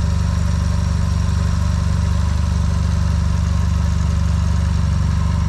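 A 2001 Mazda RX-7 with its original twin-turbo rotary engine idles under an open bonnet, giving a loud, steady, even drone that continues unchanged throughout with no talking.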